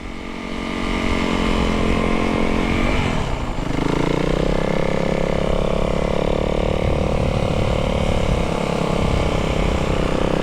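Snowmobile with a 137-inch long track, its engine droning steadily and loud up close, with the pitch dropping and then settling into a sustained hum as it rides through snow.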